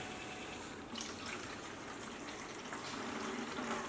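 No-rinse wash solution pours steadily into an empty jug, a close, continuous splashing gush with slight changes in tone as it fills.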